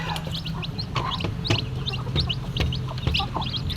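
Newly hatched chicks peep continuously in short high chirps while feeding, close by, with soft pecking taps and some livestock-type background noise throughout.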